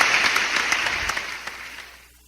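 Studio audience applause, a dense wash of clapping that starts loud and steadily fades away over a couple of seconds, with no talk over it.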